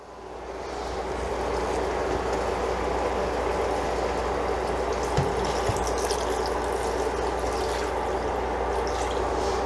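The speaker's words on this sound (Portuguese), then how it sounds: "Agora eu vou entrar então com a minha água filtrada." Filtered water poured into a pan of wine, a steady continuous rushing splash running for several seconds over a low background hum, with no talking.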